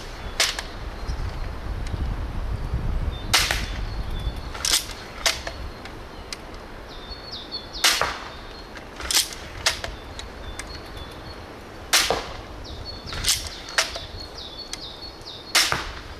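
A Cobra System Adder crossbow fires repeatedly outdoors, each shot a sharp, loud snap separated by irregular pauses of one to three seconds, with quiet background in between and no speech.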